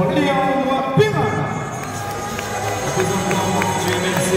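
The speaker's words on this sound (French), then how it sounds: "applaudissements pour Léon Périn" Crowd applause and cheering at a French cadet judo championship in Paris, honouring a silver medalist. A steady wash of clapping and crowd noise runs throughout, fairly loud, with voices mixed in.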